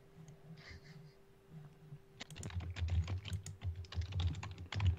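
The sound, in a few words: angry typing on a computer keyboard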